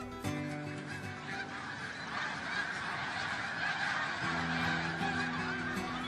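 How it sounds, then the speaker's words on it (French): A large flock of snow geese at their spring or autumn stopover in Montmagny, Quebec, honks steadily and loudly, with many overlapping calls forming a continuous clamour that lasts throughout. "Montmagny est l'hôte de milliers d'oies blanches qui font une halte avant de poursuivre leur route vers la côte est américaine."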